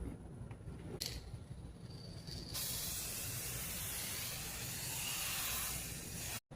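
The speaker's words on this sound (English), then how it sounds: "So the last step I have to do is apply clear coat" Steady close hiss of an aerosol clear coat being sprayed onto a car's scratched paint, starting after a brief pause and holding continuously until a sudden cutoff at the end.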